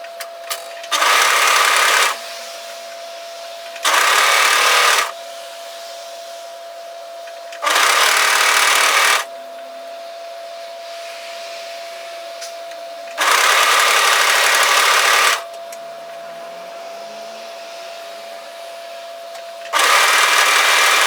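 An overlocker stitches the inner curve seam of a raglan top in several loud bursts of a few seconds each, separated by quiet pauses as the fabric is repositioned.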